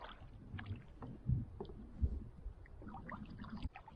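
A canoe is paddled into a roughly 15 mph wind on an Adirondack lake, with soft intermittent water splashes and dull thumps of the paddle against a low breezy background.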